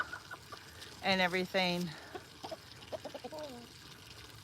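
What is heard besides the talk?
chicken clucking in a backyard coop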